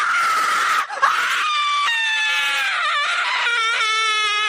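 A woman screams one long, piercing, high-pitched scream that holds loud and sustained for several seconds with a brief catch partway through, alone with no other voices.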